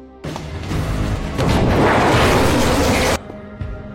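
An explosion rips through a villain's car in an action film, a loud sustained roaring blast that swells midway, holds for about three seconds, then cuts off to a low rumble.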